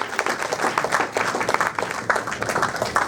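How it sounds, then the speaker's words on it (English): Crowd applause fills a full house at a beat poetry festival in Portland, Oregon, dense clapping from many hands holding steady and fairly loud throughout. "Give yourselves a round of applause for being here"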